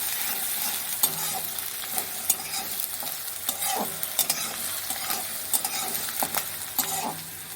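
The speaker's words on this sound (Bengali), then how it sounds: "ভালো করে এবার পেঁয়াজটা নাড়িয়ে নিচ্ছি" Onion stirred in hot oil in a pan, with a steady close sizzle under repeated scraping strokes of a utensil against the pan at an even rhythm.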